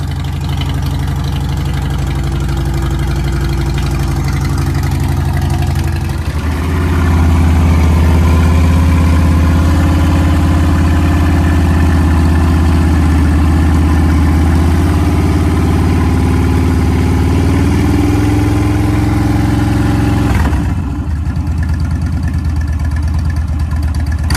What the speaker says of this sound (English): This is my 2011 Harley Davidson. Getting it out, getting it ready for the season. It's alive!